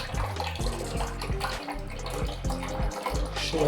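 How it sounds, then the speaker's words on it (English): Water rushes steadily into a toilet tank after a flush valve repair, a loud, continuous filling noise close by with no pauses. "you can see the water going to the tank now"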